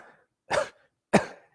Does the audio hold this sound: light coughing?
yes